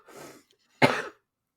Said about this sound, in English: So I got that phlegmy cough now